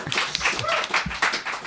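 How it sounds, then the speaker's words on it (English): Audience clapping at a live poetry taping, a short burst of scattered applause with sharp hand claps and some background voice noise. "It's totally okay to applaud each of these fabulous people as I introduce them."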